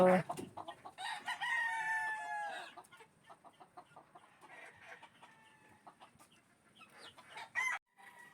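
Cockerels crow in repeated rising calls while chickens cluck in short bursts around a range area, close and fairly clear with quieter stretches of scattered clucking between the crows.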